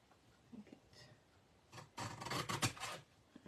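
A small handheld cutter trims a piece of paper cardstock in a short rasping stroke, faint at first and then a louder scraping burst lasting about a second, close up and without talk.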